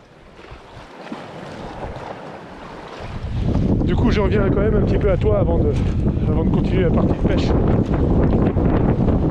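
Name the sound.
strong wind blowing on the Brittany coast while fishing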